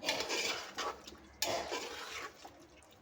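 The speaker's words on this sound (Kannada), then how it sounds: "ಇದಕ್ಕೆ ಹುಳಿ ಮೊಸರು 1 ಕಪ್ ಆಗೋಷ್ಟು ಹಾಕ್ಕೊಳ್ತಾ ಇದ್ದೀನಿ. ಮಿಕ್ಸ್ ಮಾಡ್ಕೊಳ್ಳೋಣ." Sour curd is stirred into a pot of white kushka rice with a spoon, making soft scraping, clattering strokes with a sharper knock midway, fairly quiet and close, without talk.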